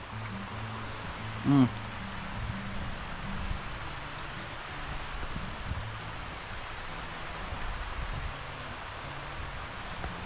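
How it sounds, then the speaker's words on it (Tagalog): Heavy rain pours steadily, a dense continuous hiss of water on surfaces close by, with a brief louder thump early on and low voices murmuring underneath. "lakas naman po ng ulan ay."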